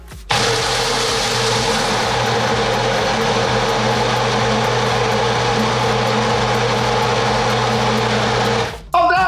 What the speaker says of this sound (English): Now that your blender has blended the ever-loving shit out of your smoothie, it's a smoothie!